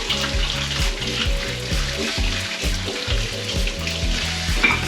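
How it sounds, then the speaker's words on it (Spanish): Fresh mussels rinsed one by one under a running kitchen tap, a loud continuous stream of water with rhythmic clatter and splashing as shells are handled, with no voices. "Los mejillones, a mí me gusta limpiarlos debajo del agua y los vamos a limpiar uno a uno."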